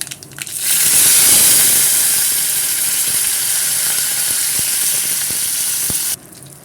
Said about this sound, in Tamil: கடுகு பருப்பு கருவேப்பிலாம் நல்லா பொரிஞ்சிருச்சு